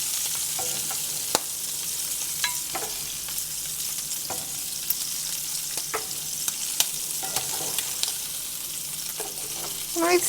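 Shrimp fry in a stick of butter in a small pan with a bright, constant sizzle, punctuated by repeated clicks and scrapes of a utensil stirring and scooping up close.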